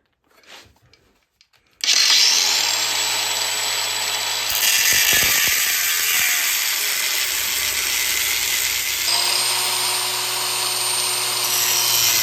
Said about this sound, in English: we're going to cut a slot in this using a cutoff wheel on a grinder